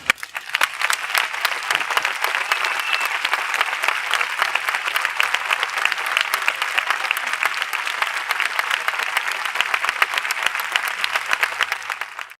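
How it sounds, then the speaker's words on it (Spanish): A large audience claps loudly and steadily, a dense sustained applause lasting over ten seconds. "A mí me gustaría que el aplauso más fuerte de esta noche fuera ahora para Jordi."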